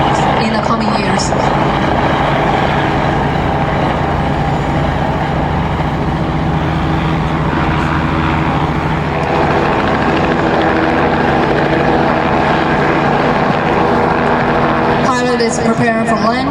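ROTOR.AI remote-controlled agricultural spray helicopter flying during a demonstration: a loud, steady rotor and engine drone that holds constant throughout, with no speech.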